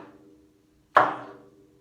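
A single sharp stroke lands on the edge of a drum, giving a crisp, close knock that decays quickly, after a faint fading tone.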